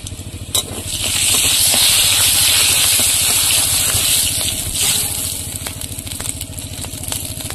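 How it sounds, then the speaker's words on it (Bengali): Dried red chillies crackle and sizzle in hot oil in a wok over a clay stove: a steady, close, bright frying hiss that holds for several seconds, then eases slightly, with a low rumble beneath. "তেলের মধ্যে শুকনো লঙ্কা কেটে দেবো।"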